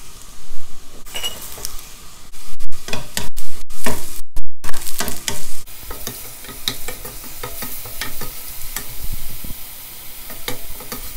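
Sliced garlic, onion and mushrooms sautéing in a hot pan, a loud steady sizzle broken by frequent scrapes and clinks of a utensil stirring against the pan.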